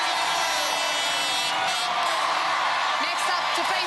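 Studio audience at an American Gladiators taping cheering for contestant Jane Smith, a loud sustained wash of crowd whoops and applause with shouts rising toward the end.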